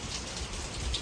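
Steady rain falls outside near a garage, a continuous even hiss of drops on surfaces with no voices, holding at a constant moderate level throughout.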